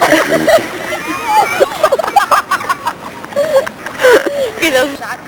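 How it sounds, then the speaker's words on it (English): Ducks splash and tussle in the DuPage River in Naperville near a bridge, with irregular nearby splashes and wing-beating water mixed with harsh calls, all under a person talking. "This is an example of ducks in a fight."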